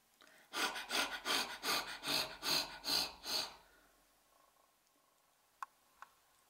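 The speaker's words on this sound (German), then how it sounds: "Der eine Hund, der hechelt ganz doll." Dog panting heavily outdoors, about eight rapid rhythmic breaths in a quick burst that then stops, followed by quiet with a couple of faint ticks.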